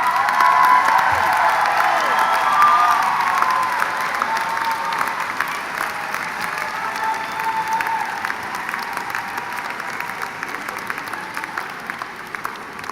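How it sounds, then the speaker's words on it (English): A large commencement crowd greets the college mascot with loud, sustained applause mixed with cheering and a few whoops, dense and steady before slowly tapering off. "let's give a big round of applause for your mascot"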